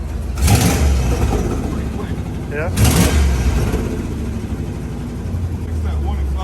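Custom Ford Ranger with a 5.0 V8 and catalytic converters runs with its exhaust muffled and fairly quiet, giving a steady low rumble with two brief revs, while people talk nearby.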